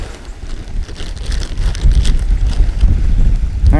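Wind of roughly 15–20 mph buffets the microphone at a lake during carp fishing, a continuous loud low rumble with gusts that strengthen after the first second.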